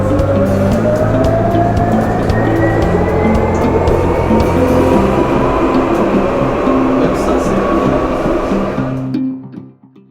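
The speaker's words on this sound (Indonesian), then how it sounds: "sekarang kita di salah satu tram di kota Lyon, Prancis." Tram interior in Lyon, France, in motion: steady loud rumble with rising and falling motor whine tones, running continuously before cutting off abruptly near the end.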